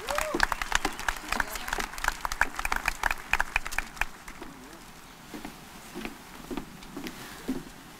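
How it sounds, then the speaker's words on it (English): A graduation audience applauds the school staff with scattered, uneven clapping and some cheering voices, loud at first and then thinning into sparser claps. "So please join me in giving this incredible staff a round of applause."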